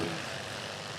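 Steady engine drone from a light STOL aircraft taking off at a short-takeoff competition, a continuous propeller hum heard at moderate distance, no voices.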